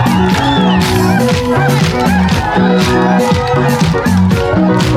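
A church worship crowd in Bugendana, Gitega, clapping with raised hands: steady rhythmic claps blended into loud music and singing, continuous and close.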